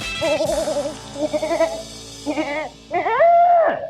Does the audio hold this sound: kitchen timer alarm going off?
no